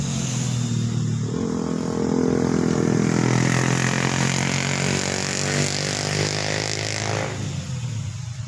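A K99 Max II drone flies at speed 2 into the wind, its propellers making a loud, steady buzzing whine that swells and then eases off.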